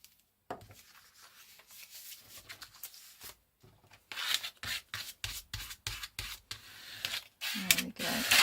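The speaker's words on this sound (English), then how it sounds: "So I'm just going to use Pritt Stick for this." A Pritt Stick glue stick rubbed across paper during a shabby-chic blue Valentine craft project, giving a run of short, dry rasping strokes that grow louder and quicker toward the end, close up with no voices.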